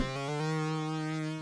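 A second Analog Lab synth bass patch, pitched a little higher than the first, sounds as a steady buzzy tone with a bright harmonic edge, held for about a second and a half with nothing else playing.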